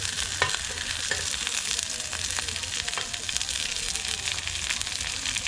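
Tomatoes and onion fry in a pan for pozole, sizzling and crackling steadily with occasional stirring clinks, close and continuous.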